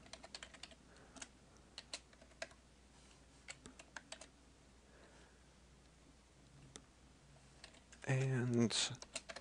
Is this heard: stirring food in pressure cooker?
no